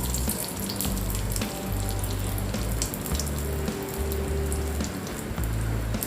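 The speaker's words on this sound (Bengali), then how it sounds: "চিংড়ি মাছ ভাজার তেলের মধ্যেই আমি যে একটু জিরা ফোড়ন দিলাম" Cumin seeds and bay leaf sizzling in hot oil left from frying prawns, a close, steady crackling hiss with scattered sharp pops and a low hum beneath, no talking.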